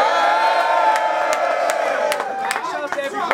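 A live rap battle crowd at a Don't Flop event in Washington DC roars, cheering and whooping loudly and continuously, with scattered claps and shouts breaking through the dense noise.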